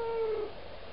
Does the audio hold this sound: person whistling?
no